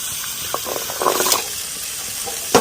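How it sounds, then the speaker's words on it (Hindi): Water poured over chickpeas in a pan or bowl to wash them, a soft splashing trickle with brief louder gushes, close by and without talk. "छोले में इस तरह से पानी को हमने डाल दिया है छोलों में और इस तरह से साफ कर लेते हैं।"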